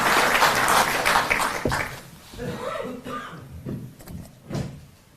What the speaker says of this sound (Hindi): एक बार जोरदार तालियों से आप सर का अभिनंदन।